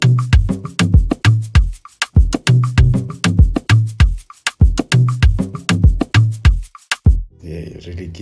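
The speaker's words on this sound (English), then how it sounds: "So drums alone then sound like this." Afrobeats drum loop in a Burna Boy style, punchy kicks and percussive hits in a bouncing syncopated groove, loud and up front, repeating for several bars before a short noisy tail.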